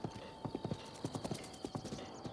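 Epona, a horse in Breath of the Wild, clip-clops with quick, uneven hoofbeats over a steady background hum, close and clear, without a clearly heard neigh.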